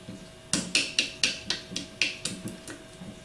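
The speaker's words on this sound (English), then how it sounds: "We're tapping on the brush pin with a hammer" A hammer taps a small brush pin to drive the shaft out of a Valeo alternator during a rebuild: about ten sharp metallic knocks in a steady rhythm, close and clear, gradually softening toward the end.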